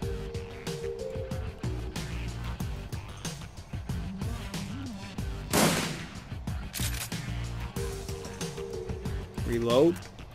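Video game gunfire: bursts of shots and rapid fire ring out over a continuous game soundtrack with a tonal music bed, one louder crack standing out midway, while a person talks over the action.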